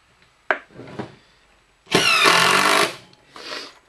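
A power drill drives screws into wood while building a shotgun rack, giving a short knock, a loud two-second whirring burst, then a briefer buzzing run after a pause.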